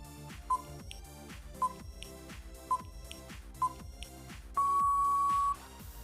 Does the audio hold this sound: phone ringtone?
yes